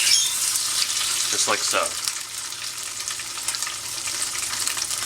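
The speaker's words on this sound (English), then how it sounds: "We're going to take your slices of tofu and lay them very gently into the pan." Tofu slices frying in canola oil in a pan over medium heat, a steady close sizzle that swells briefly as pieces are laid in, with a short spoken remark over it.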